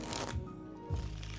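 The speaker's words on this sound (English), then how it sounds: "Quick overhand shuffle." Two quick ruffling bursts of an overhand shuffle of a deck of playing cards, close and soft, with a brief pause between them.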